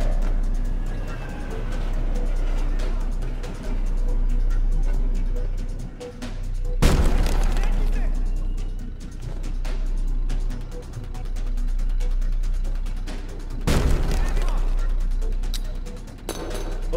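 Grenade blasts and gunfire in the Zero Hour video game, two sharp loud explosions several seconds apart over a constant low rumble and scattered shots, with a voice briefly heard.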